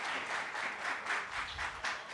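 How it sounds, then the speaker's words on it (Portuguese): Applause from an audience at a travel-technology business event, steady and dense clapping with slight swells that stays moderately loud for the whole two seconds. "Palmas, pessoal."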